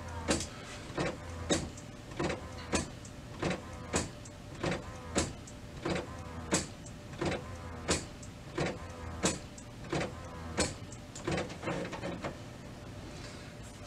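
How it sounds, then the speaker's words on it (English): An HP Officejet Pro 7740 inkjet printer primes its ink during setup, giving a steady, evenly spaced run of mechanical clicks and thumps over a low whirring hum, close by and moderately loud with no voices. "it's got to pull all the ink through the machine and kind of get set up and ready"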